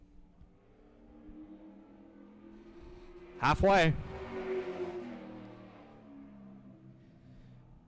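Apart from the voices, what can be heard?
race car on track at Easy-Kleen Pressure Systems 150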